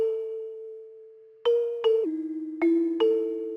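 A bell-like synth tone in FL Studio, with its EQ removed, holds steady, then several bright struck notes ring out in sequence, each with a sharp attack and lingering sustain.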